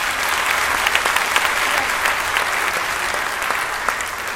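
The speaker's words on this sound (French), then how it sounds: "Alors on va l'applaudir aussi très fortement." Audience at an evening event gives sustained, dense applause, loud and continuous from a large crowd with no voices standing out, holding steady throughout.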